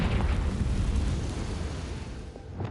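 A Confringo fire blast spell in the Hogwarts Legacy video game lands as a loud, rumbling, explosive roar that fades slowly over a couple of seconds.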